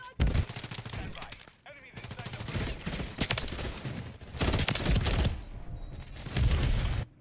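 Jak Devastators fired in Modern Warfare 3, dense bursts of rapid gunfire in several volleys separated by short pauses, loud and close, with a voice briefly under the shots.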